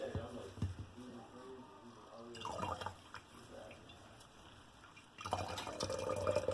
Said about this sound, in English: squeeze out the rest. Whoa, and it's squirting everywhere.